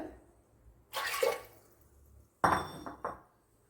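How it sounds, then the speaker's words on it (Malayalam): Water poured into a pot of green gram for curry, two short, splashy bursts with clattering pot contact, the second sharper and followed by a few quick splashes, separated by quiet. "ഇതിലേക്ക് വേകുവാൻ ആവശ്യമായ വെള്ളം ഒഴിച്ചു കൊടുക്കുക"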